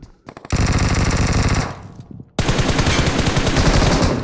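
Automatic gunfire rings out in a battle royale shooter match: a long, loud rapid burst, a short pause, then another sustained volley of close, dense shots.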